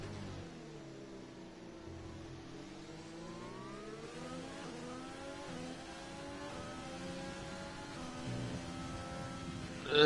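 Formula One cars from Racing Point and McLaren race side by side in a video game, their engines droning and rising in pitch as they accelerate, a steady mid-level whine throughout.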